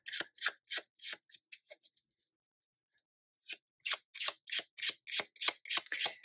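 Tarot cards shuffled by hand in a steady run of crisp riffling bursts, pausing briefly midway before resuming at a quicker pace, close and clear with no talking.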